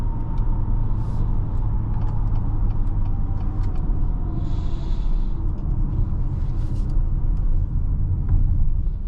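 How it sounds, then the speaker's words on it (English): A 2025 Acura RDX A-Spec accelerating on the road, heard from inside the cabin as a steady low engine and road rumble with faint clicks and ticks scattered over it. "Smooth acceleration."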